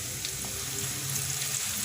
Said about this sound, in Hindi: तेल गरम हो गया। अब इसमें मैं डाल रही हूँ एक प्याज दरमियाने साइज़ की